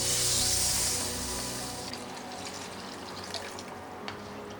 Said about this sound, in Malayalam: ഇതിലേക്ക് 2 കപ്പ് വെള്ളം ഒഴിച്ചു കൊടുക്കാം.